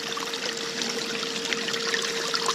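Water trickles steadily over Lynch Mining Black Label paydirt as it is wetted down in a sluice, a continuous close splashing dribble with no voices.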